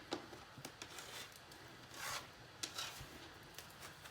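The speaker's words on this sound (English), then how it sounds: "I'm gonna cut the deck." A deck of tarot cards is cut by hand, giving soft, quiet rubbing and sliding with a few brief papery taps spread through an otherwise hushed room, with no voices.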